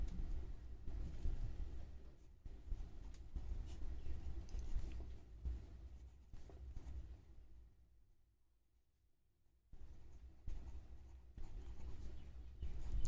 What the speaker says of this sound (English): Again start by writing the formula.